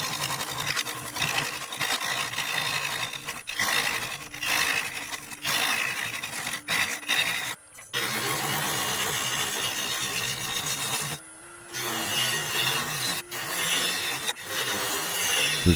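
A wood lathe turns a split-wood bowl at around 650 RPM, a continuous loud scraping and rasping of the tool on the spinning wood, broken by a few short pauses.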